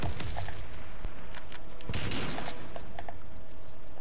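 Gunfire in a Warface match, a rapid string of sharp shots cracking out in bursts, with one heavier blast near the middle, loud and close against a noisy backdrop.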